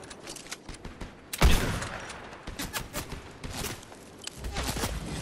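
Gunfire in a shooter game, a sudden loud burst of shots followed by scattered sharper cracks and rapid bursts, with shuffling movement in between.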